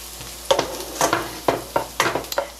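Garlic sizzles gently in a pot with bacon for a one-pot pasta, with a spoon stirring in soft scraping strokes about twice a second over a quiet, steady frying hiss.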